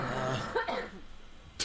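A person coughs a few times at close range during a podcast panel show, loud rough bursts with a sharp final burst at the end.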